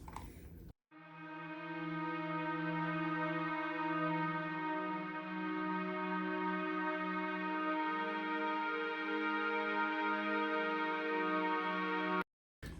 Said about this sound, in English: This is augmented strings.